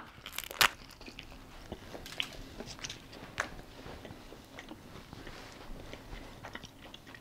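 Biting and chewing a baked Cut Da Carb keto low-carb flatbread tortilla wrap, with a sharp crisp crunch at the first bite followed by repeated softer crackly crunches of chewing up close.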